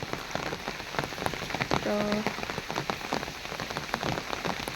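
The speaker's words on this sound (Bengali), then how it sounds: "বৃষ্টির মধ্যে" Heavy rain patters on surfaces outdoors while someone walks through it, a dense, close, continuous hiss with scattered louder drops and a brief word spoken over it.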